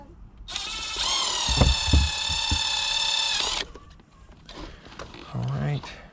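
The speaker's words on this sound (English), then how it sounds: "and then rivet it in" A rivet tool sets rivets into a part while replacing the airbags in a 1999 Honda CR-V, giving a sustained whirring tool burst of about three seconds with a few sharp clicks, then quieter handling noises.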